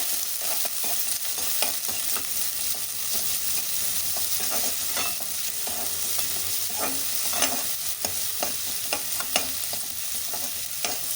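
Onion fries in a pan for an egg and chicken curry-leaf gravy, giving a loud continuous sizzle broken by repeated scraping and stirring clicks from a spoon against the pan.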